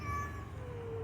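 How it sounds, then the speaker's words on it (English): A lost cat gives a single close, drawn-out meow that slides downward in pitch, clear and unaccompanied by talk. "Meow? Meow?"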